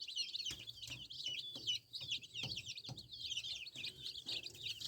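Chickens in a rural Western Ukrainian village, heard as a dense flock of quiet, high chirping and peeping with occasional low clucks and soft thumps, steady and fairly faint.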